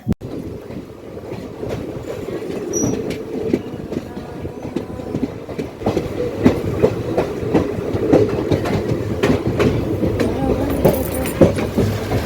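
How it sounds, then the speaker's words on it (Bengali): A passenger train pulling into Boromohom station rumbles steadily with clickety-clack wheel rhythm and faint squeals, heard from inside a carriage at moderate loudness with no clear talking. "এই দেখো ট্রেন কিন্তু দাঁড়িয়ে পড়েছে বড়মহোম স্টেশনে"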